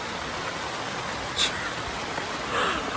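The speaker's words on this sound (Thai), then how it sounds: "ถ้าฝนตกแบบนี้ ไม่แรงแล้วก็ ลมไม่แรงมากอะไรอย่างนี้นะครับ" Light rain falling on a leaking tent in little wind, heard from inside as a steady soft hiss with a couple of brief louder patters.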